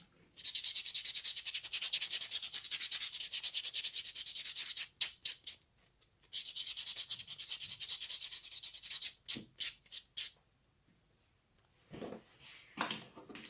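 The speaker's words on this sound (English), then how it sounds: "So here we go on buffing our own nail." Steady dry rubbing as a fingernail is buffed, close and fairly loud, in two long sustained passes broken by a run of short quick strokes, then a few softer scuffs near the end.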